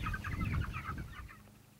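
Broiler chickens in a pasture hoop house cluck in a busy overlapping jumble, fairly close, with the clucking fading slightly toward the end.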